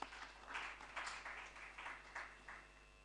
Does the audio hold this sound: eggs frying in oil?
no